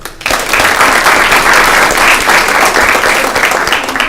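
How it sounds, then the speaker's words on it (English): Loud, dense applause from a student government meeting audience, starting abruptly and holding a steady roar of many hands clapping for several seconds. "So another round of applause if y'all will."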